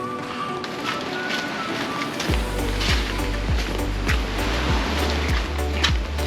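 Sea at Cozy Beach in Pattaya: a steady broadband wash of surf rolls on, with a deeper, louder rumble of breaking waves joining partway through, close and continuous without talk.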